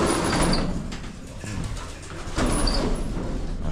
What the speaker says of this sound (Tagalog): Ating mga ibon, kumustahin natin.